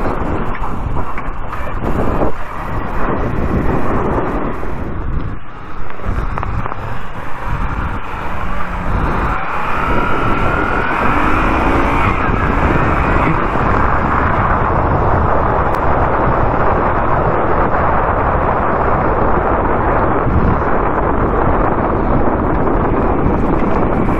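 A Moto Guzzi V7 III Racer motorcycle engine hums steadily while riding, a continuous loud low drone mixed with heavy wind buffeting on the microphone throughout.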